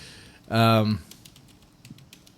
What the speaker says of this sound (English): I heard typing for sure